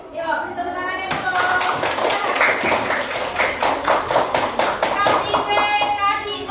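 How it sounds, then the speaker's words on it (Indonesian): Schoolchildren in a classroom clap their hands in unison, a rhythmic run of sharp, loud claps close by, mixed with excited young voices and a teacher talking. "Yuk, kasih tepuk tangannya dulu."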